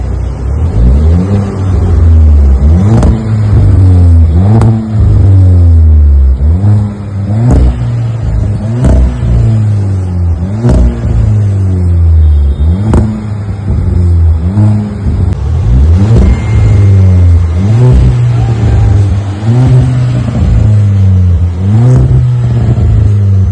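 A VW Polo GT fitted with a MagnaFlow dual-tip exhaust and resonator delete revs repeatedly, loud and close, its engine note climbing and falling in a steady series of throttle blips with no talking.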